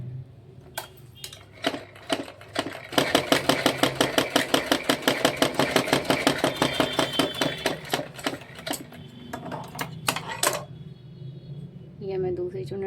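A sewing machine stitches a belt blouse, a close rapid rhythmic run of needle strokes lasting several seconds, with a few single clicks before and after, and a voice at the end.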